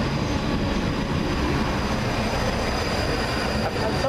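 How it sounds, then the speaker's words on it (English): First ScotRail train 334030 running through Glasgow High Street station, a steady loud roll of wheels on rails with a faint high squeal, heard from nearby without any talk. "334030 with the 9:35 First ScotRail service from Edinburgh Waverley to Helensburgh Central"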